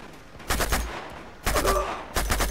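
Gunfire during a cover-shooting firefight in the urban warfare stage of Uncharted 2: Among Thieves, three separate loud bursts of rapid automatic shots, each lasting about half a second, with short gaps between them.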